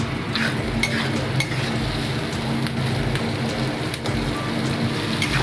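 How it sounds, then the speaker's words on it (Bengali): Thinly sliced onions with a little salt fry in a pan, producing a dense, continuous crackling hiss like rain, loud and close, with occasional stirring clicks. "দিয়ে একটু ভেজে নেব"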